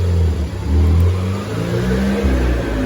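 Ford Fiesta ST180 engine revving on a dyno, a loud, continuous low drone that swells and dips with the throttle.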